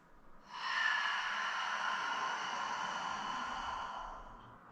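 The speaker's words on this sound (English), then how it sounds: "Inhale. Exhale." A long, steady breath drawn in or let out during a guided breathing exercise, an airy broadband whoosh that swells quickly and holds evenly for several seconds, close and soft, with no talking.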